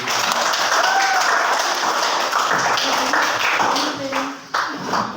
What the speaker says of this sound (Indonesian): tepuk tangan untuk Armin